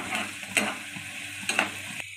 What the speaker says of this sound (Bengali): পেঁয়াজ কটা লাল লাল করে ভেজে নিই।